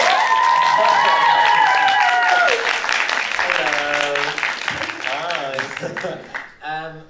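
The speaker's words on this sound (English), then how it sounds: "the biggest welcome and the most loud round of applause for Eden and Tom" An audience at an Art School fashion label Q&A applauds under music with a sustained melodic tone, the clapping a steady wash beneath the tune before it thins out near the end.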